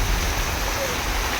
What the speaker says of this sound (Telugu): చూసారా వర్షం ఎలా పడుతుందో చూడండి.